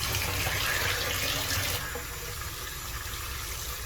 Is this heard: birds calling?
no